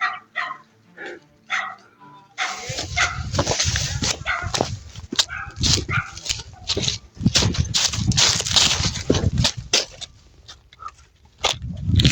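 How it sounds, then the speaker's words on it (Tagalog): A dog barks repeatedly in sharp, loud bursts, with yips mixed in, against a dense, busy background of video game noise. "Parang aso tol, Dadong yung sumisigaw."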